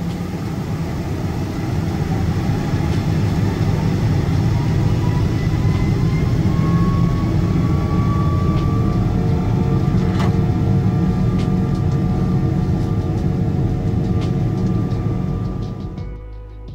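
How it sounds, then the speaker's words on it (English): The engines of an American Airlines Boeing 777 spool up for takeoff from Miami, heard from inside the cabin as a loud, steady roar with a rising whine that holds for many seconds and then eases off. "Here's possibly one of the last spool-ups from this aircraft."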